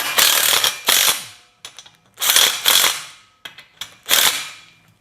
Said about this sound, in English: Let me tighten up my clamp and see if it will hold.